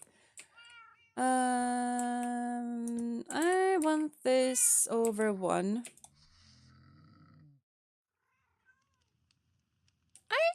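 A house cat meows several times, close and loud, in long drawn calls and shorter chirps, with keyboard typing and clicking around them and a person speaking briefly.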